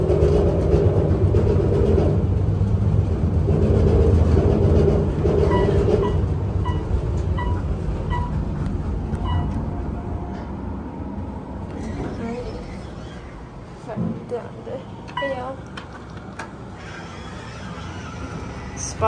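An Otis Series M2 glass elevator at the Atlanta Marriott Marquis runs with a loud, rumbling, train-like drone that slowly fades, followed by a few clunks and knocks near the end, with faint voices in the background.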